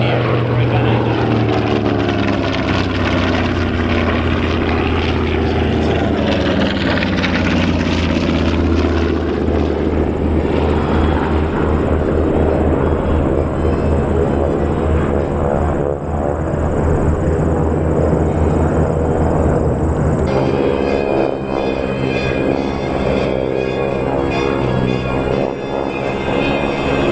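TBM Avenger and T-6 Texan radial-engine warbirds fly past in formation at an air show in Northern Illinois, a loud, steady propeller and engine roar that swells and holds for the whole stretch.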